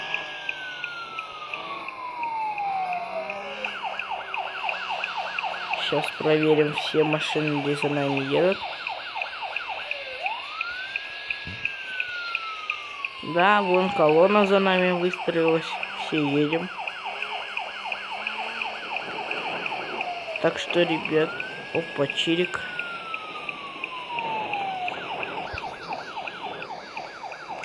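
Motorcade escort car siren wailing in repeated rising and falling sweeps over steady engine and road noise during a thunderstorm, with someone talking in between and occasional short yelps.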